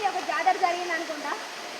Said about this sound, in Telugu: మొత్తం వాటర్ ఫాల్.